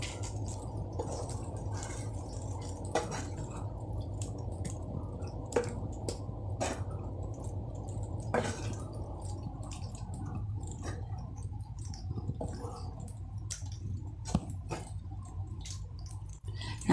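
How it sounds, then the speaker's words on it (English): Ladyfinger masala with tomatoes and curd is stirred in a pan, giving soft wet squishing and scraping sounds with occasional clicks over a low steady background hum. "And now I will stir this nicely."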